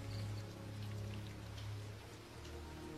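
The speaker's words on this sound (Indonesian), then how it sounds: "Dalam perjalanan Cuk sempat kehujanan" Steady rain falls on a raft drifting at sea, a dense continuous patter with a low rumble beneath it, moderately loud throughout and with no voices.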